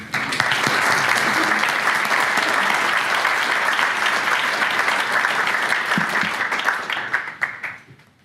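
A lecture audience breaks into sustained applause to welcome Professor Munger, dense clapping holding steady for several seconds before tapering off.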